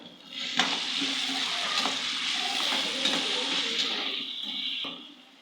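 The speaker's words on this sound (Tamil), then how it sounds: "உப்பு சேர்த்து நல்லா கிளறி விட்டுக்கலாம்" Loud sizzling of masala for crab gravy frying in a pan, with scraping stirs of a spoon punctuating the steady hiss.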